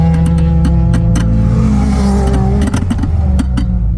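A Lexus LS430 V8 on a track day roars loud and close, its engine droning under load with shifting pitch as it accelerates, interrupted by sharp clicks and knocks.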